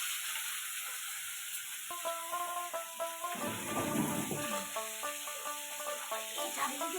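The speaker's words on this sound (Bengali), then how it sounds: "রুমি মাছটা ভাজতে ভাজতে আমি মশলাটা বেটে নিই" Rui fish fries in a little oil with a soft, continuous hiss and crackle, fairly quiet, while faint melodic tones come and go over it.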